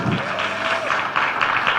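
Audience clapping at a sales event in Sabah, a dense steady patter filling the whole moment at close range with no talk over it.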